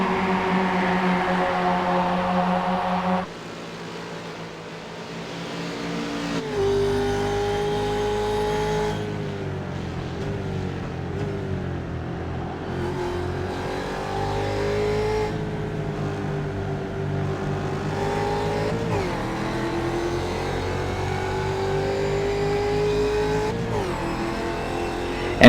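Number 54 race car on a road course, heard from the in-car view as its engine revs loudly and continuously, pitch climbing and dropping through repeated upshifts and downshifts.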